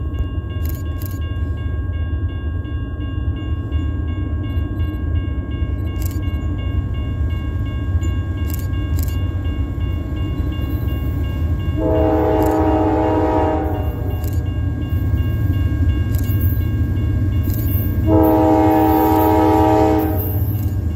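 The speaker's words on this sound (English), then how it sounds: "we have NS-102 coming past Buren, Tennessee, with that SD-40-2" A Norfolk Southern freight train hauled by an SD40-2 diesel locomotive rumbles past steadily with rolling wheel noise, and two long blasts of the diesel horn sound loudly near the end.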